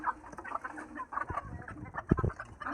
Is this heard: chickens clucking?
yes